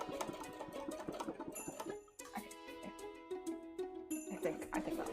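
Domestic sewing machine stitching free-motion embroidery, rapid rhythmic needle chatter in short bursts with brief pauses, fairly quiet and close, mixed with faint tinkling tones.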